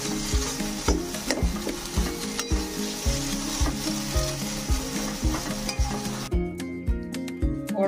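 A spatula repeatedly scrapes and stirs a thickening banana flower filling in a wok, a rhythmic pattern of regular scrapes over a constant frying sizzle, close and clear, with no talking.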